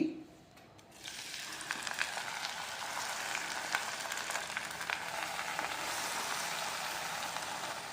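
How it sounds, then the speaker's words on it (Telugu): Gongura leaves dropped into hot oil in a pan for a chicken gongura pickle, giving a steady, fairly quiet hiss and crackle that starts after a short quiet moment and continues evenly with no voices. "ఇప్పుడు ఈ గోంగూరని ఇందులో వేసుకుని ఉడికించుకోవాలి ఆయిల్లో వేసుకుని"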